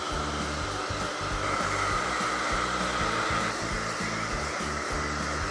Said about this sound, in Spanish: secaremos con calor y estiraremos con una carda el manto